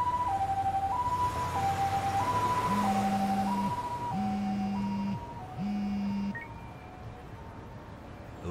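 Ambulance siren in the video game Lost Judgment: a two-tone wail alternates steadily, joined midway by a repeating lower honking pulse, loud and near before cutting off toward the end, with no talk.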